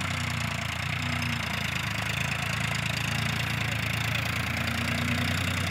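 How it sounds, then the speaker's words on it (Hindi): A Champion tractor engine idles steadily and close by, a constant even low chugging drone with no voices. "और ये है फार्म ट्रक, चैंपियन ट्रैक्टर है,"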